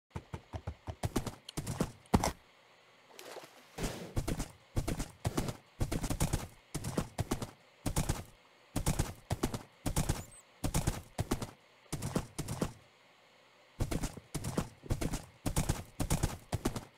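Rhythmic video game hoofbeats clip-clop in quick bursts with brief pauses between runs, crisp and close, like a horse trotting on hard ground, in a block-building game.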